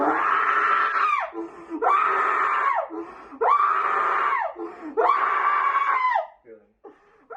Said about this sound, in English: that scream is very autistic sounding